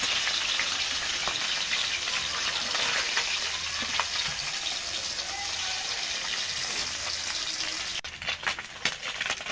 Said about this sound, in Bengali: পুঁটি মাছ ভাজতে বেশি টাইম লাগে না, তাড়াতাড়ি ভাজা হয়ে যায়।